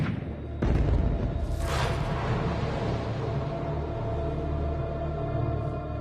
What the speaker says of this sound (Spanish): los disparos de la artillería les recuerdan a todos que el fin está cerca.